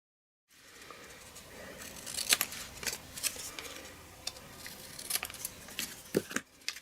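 Scissors snip through excess cardstock while a diorama card is assembled, a sequence of short, crisp cuts and papery rustles, fairly close and moderately loud.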